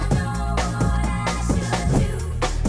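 Thick, gritty Reese synth bass chords from detuned saw waves with a wide buzz, punctuated by regular drum hits in a steady breakbeat groove.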